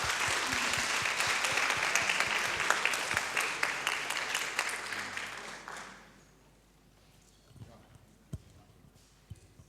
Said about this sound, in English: Can we get a round of applause for the sponsors,